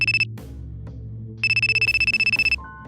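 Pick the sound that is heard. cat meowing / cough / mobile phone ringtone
mobile phone ringtone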